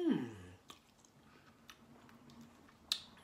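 Close, quiet chewing of barbecue meat from a restaurant, soft wet mouth sounds after an initial louder burst, with a few clicks and a sharp tick near the end.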